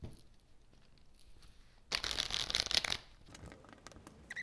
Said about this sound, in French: Donc je vais prendre 3 cartes.